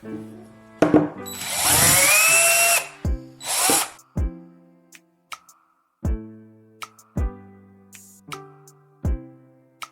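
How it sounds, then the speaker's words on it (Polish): A power drill bores holes into the handles of pliers, a loud whirring burst followed by a shorter one, then a series of sharp metallic taps and clicks, close up. "Zrób otwory w uszczykach szczypiec i włóż sprężynę."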